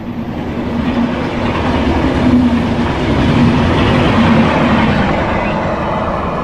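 Another train rumbling past on the adjacent track while the passenger train waits, a steady loud clattering roar with rhythmic wheel clicks that swells slightly in the middle, no voices.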